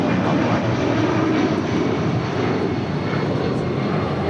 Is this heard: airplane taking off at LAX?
yes